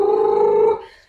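A voice imitating a motorbike with buzzing lips, a single steady low rumbling drone that holds for under a second and then fades out, close and fairly loud.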